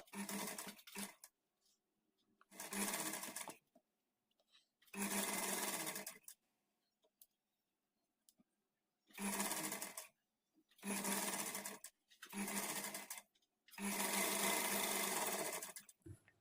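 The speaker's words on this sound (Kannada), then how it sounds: "ಸ್ಲೀವ್ ಕೆಳಗಡೆ ಇರುತ್ತೆ ಇದನ್ನು ಆಗಿ ಇಟ್ಕೊಂಡು ಸ್ಟಿಚ್ ಮಾಡ್ಕೊಳ್ತಾ ಬರಬೇಕು" Sewing machine stitching blouse sleeves onto the bodice: a steady mechanical whirring hum that runs in bursts of a second or two, starting and stopping repeatedly with quiet gaps between, close and clear.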